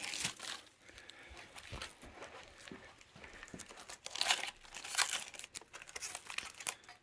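Protective plastic sheets peeled and crumpled off a Begode Master Pro electric unicycle, giving close, irregular crinkling and tearing bursts that grow denser and louder toward the end, with no talk.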